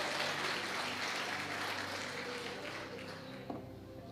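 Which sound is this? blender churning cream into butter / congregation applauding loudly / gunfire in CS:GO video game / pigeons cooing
congregation applauding loudly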